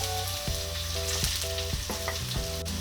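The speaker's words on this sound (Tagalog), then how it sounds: "Ngayon na mainit na po ang ating mantika, pwede na nating igisa ang ating bawang." Garlic sautéing in hot cooking oil for goat kaldereta, a steady continuous sizzle and frying crackle throughout, close and fairly loud with no talking.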